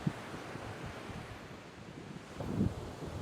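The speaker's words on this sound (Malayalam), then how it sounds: "കടലിങ്ങോട്ട് കേറി വരുന്നുണ്ട്." Sea waves surge up onto a beach with a low, broad wash of surf and wind noise, swelling louder near the end. No one speaks.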